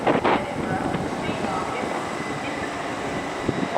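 A TransPennine Express train, unit 802-208, departing York station produces a rumbling, rolling rail noise with wind buffeting on the microphone, steady and fairly close throughout.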